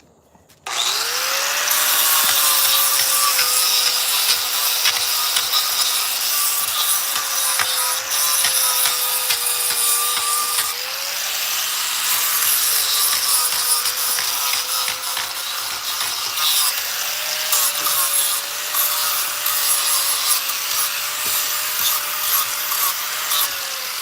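A chainsaw runs steadily for the whole stretch while carving pumpkins, a loud continuous buzzing engine with small pitch dips as the blade bites, close and alone with no talk.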